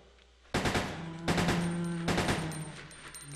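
Gunfire in the survival horror game Resident Evil: Code Veronica X, three loud, sharp bursts of shots in quick succession, each ringing out with a lingering metallic tail, heard alone without talk.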